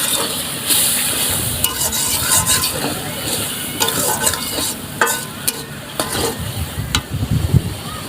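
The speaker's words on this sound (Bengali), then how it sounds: "হলুদের গুঁড়া মশলাটা হালকা একটু কষবো" Turmeric powder sautés in hot oil in a village kitchen pan, a steady loud sizzle broken by scraping stirs and sharp clinks of the spoon against the pan.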